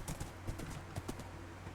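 Horse hooves clip-clop in Minecraft 1.19.3, a quick run of sharp, evenly paced clops at moderate loudness with no talk over them.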